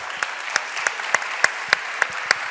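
Claps at a comics fan event talk honoring artist Rafa Sandoval on Superman Day, nine sharp, evenly spaced beats in a steady rhythm, close and distinct, with no talking over them.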